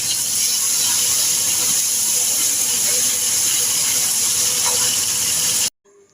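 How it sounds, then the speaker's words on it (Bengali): Fish frying in a pan of hot oil in a home kitchen, a loud, steady hissing sizzle close by that runs unbroken for several seconds and then cuts off abruptly. "দেখো মাছটা ভাজতে বসে দিয়েছি"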